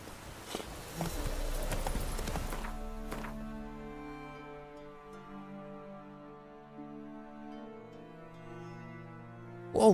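Roach, a horse in The Witcher 3, gallops with quick rhythmic hoofbeats for about three seconds before they fade out beneath sustained game music.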